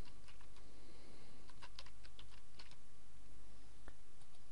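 Keys are tapped on a computer keyboard as a new username is entered, a quick irregular run of light clicks, close and quiet with no talking.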